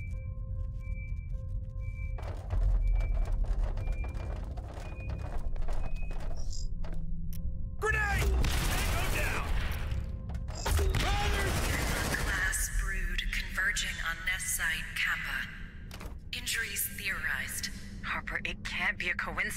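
Sustained automatic gunfire bursts from a squad in the sci-fi tactical game Aliens: Dark Descent, loud thuds and rattling volleys dominating the middle stretch between quieter moments with electronic tones and a voice speaking.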